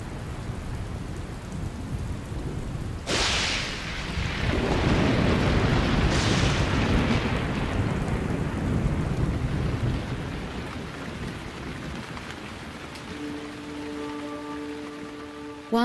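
A thunderstorm over an open grassland plain, with steady rain hissing throughout and loud claps of thunder that rumble and fade. A faint tonal hum rises near the end. No one speaks.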